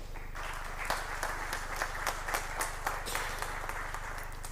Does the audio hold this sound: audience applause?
yes